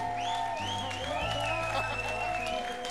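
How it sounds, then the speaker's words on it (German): Applause from the crowd at the Munich Pride finale, a spread of clapping heard under loud sustained music with a sung melody on top. "Großen Applaus, bitteschön."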